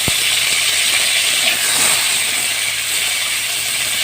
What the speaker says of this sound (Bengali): এবার কপিগুলো দিয়ে দিচ্ছি কপিগুলো লাল লাল করে ভেজে নেবো